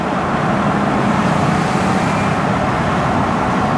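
A 2003 Ford Mustang Cobra with its original long-throw shifter pulls hard under power, a loud steady engine roar and road noise heard from inside the car with no talking.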